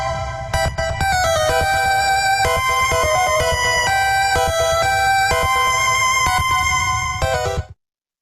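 Introductory phrase of the haunted Pokemon Tower music from Pokemon Red and Blue, a bright chiptune melody over a steady pulsing bass, playing loudly without talk before stopping abruptly.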